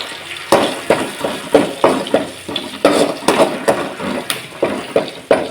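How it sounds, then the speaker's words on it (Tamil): Sliced garlic sautés with curry leaves in a pan for lentil ball curry, under a steady run of spatula scrapes and metallic clatters about twice a second over a soft sizzle, with no one talking. "பூண்டு நல்லா வதங்கட்டும்."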